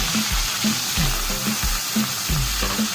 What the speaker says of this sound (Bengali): কড়াইতে তেল গরম করে নিয়েছি, এবার মাছগুলো আমি চটজলদি ভেজে নিচ্ছি